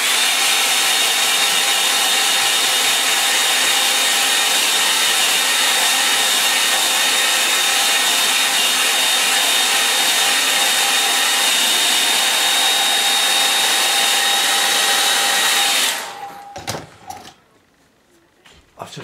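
A hair dryer blows steadily and loudly, close up, drying a watercolour painting on Fabriano paper, with a continuous whine that cuts off near the end, leaving faint handling sounds.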